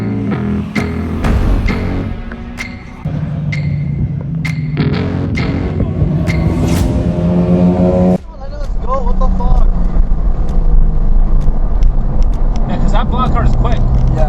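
A Porsche 992 Targa 4 GTS with a manual gearbox drives laps on a wet race track, its engine droning loudly and shifting pitch through gear changes, with cabin talk over it.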